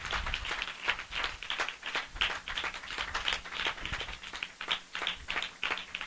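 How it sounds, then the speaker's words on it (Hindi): Rhythmic clapping at a Christian spiritual revival assembly, a regular beat of sharp hand claps repeating for about six seconds, fairly distant and muted rather than close, with no speech over it. "हम जोरदार ताली से उनका स्वागत करें।"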